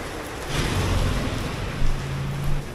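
Heavy rain pours down in a steady, dense hiss with a low rumble underneath, continuous throughout with no voices.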